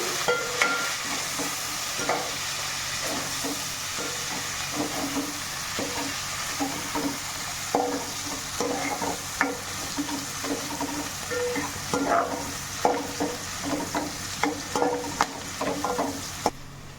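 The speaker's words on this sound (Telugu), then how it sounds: "ఉల్లిపాయ ముక్కలు వేస్తున్నానండి. ఇప్పుడు కరివేపాకు కూడా వేస్తున్నానండి. ఇవి కొంచెం దోరగా వేగాలండి." Onion pieces and curry leaves fry in oil in a pan for cabbage and chana dal curry, with a steady sizzle broken by repeated scraping and clinking as a spoon stirs, close and moderately loud.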